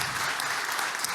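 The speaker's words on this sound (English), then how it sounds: "give a round of applause, guys" Audience applause at a presentation, a brief, steady wash of many hands clapping heard alone.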